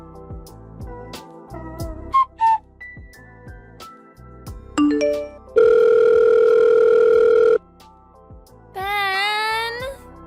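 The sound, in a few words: phone ringing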